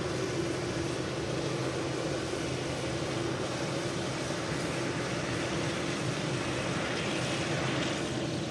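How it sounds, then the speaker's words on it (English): A steady, loud jet engine rumble from an aircraft taxiing in from Jeddah fills the whole stretch with a continuous broadband roar, no voices. "Aircraft driving in from Jeddah, of course."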